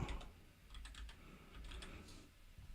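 Keys clatter on a computer keyboard in quick bursts of clicks with short pauses between them, close and fairly quiet with nobody talking, as text is typed into a number input field while building a Roman numeral converter.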